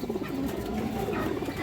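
A female pigeon coos in low, soft repeated notes, held close and steady over a light background murmur.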